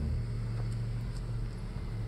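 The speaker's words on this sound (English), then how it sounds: "So let's accelerate a little more and we'll see how this all-wheel drive system responds." A 2021 Mercedes-AMG GLE 63 S, an all-wheel-drive SUV, accelerates up a steep 36% off-road slope. Its engine makes a steady low rumble that holds at a constant level throughout.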